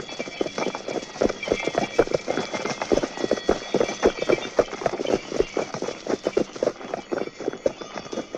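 Hooves of several horses gallop in a dense, rapid clatter at the Red Fort sound and light show in Delhi, loud and steady throughout with faint murmurs beneath.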